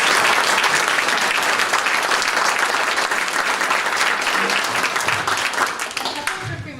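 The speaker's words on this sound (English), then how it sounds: "How about a big round of applause?" Sustained applause from an audience of older adults at a breakfast gathering, dense and loud throughout before tapering slightly at the end, with no voices over it.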